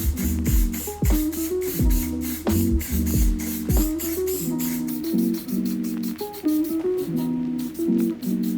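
A spray can applying lacquer to an Audi A4 B7 headlight, a loud continuous hiss broken into repeated bursts, with rattling, sputtering nozzle noise and short gaps between passes.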